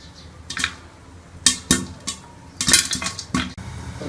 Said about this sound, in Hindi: ये देखें आपको कैसी आवाज़ें आ रही हैं और हमारे जो मकई है वो फूल रही है